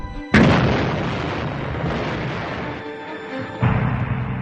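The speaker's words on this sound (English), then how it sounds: "It bounced wide and exploded without breaching the dam." A WWII bouncing bomb bursts near a dam in a sudden loud boom, followed by a long rumbling roar that fades, then a second heavy surge of blast noise near the end.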